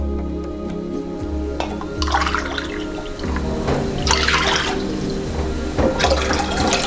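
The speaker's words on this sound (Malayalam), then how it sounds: "വേറൊരു പാത്രം വെച്ച് നമ്മൾ 3 കപ്പ് വെള്ളം ഒഴിക്കാം." Water is poured from a cup into a pot three times, each pour a splashing gush followed by a short pause, close by and with no talking.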